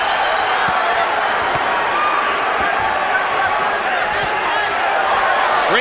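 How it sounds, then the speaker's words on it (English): Boxing arena crowd at the Floyd Mayweather Jr. versus Jesus Chavez fight, a dense continuous roar of spectators chanting in support of Chavez, steady and loud throughout with no gaps. "Pro Chavez crowd chanting already."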